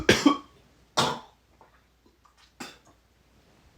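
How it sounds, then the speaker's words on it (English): A sick person coughs close to the microphone, three sharp, harsh bursts spaced about a second apart, with faint small clicks in between. "Sorry, I know I'm coughing a lot."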